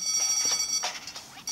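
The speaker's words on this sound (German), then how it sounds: "Juckt's dich gar nicht, dass der Alarm bei deinem Haus rumspukt?" A house alarm goes off in the video game Deponia, a steady high electronic tone with pulsing bursts, fairly loud and with no talk over it.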